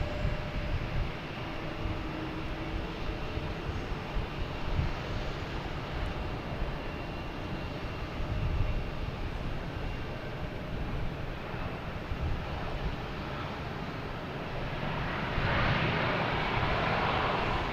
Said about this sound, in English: Delta coming in from LaGuardia in E-175 over the sailboats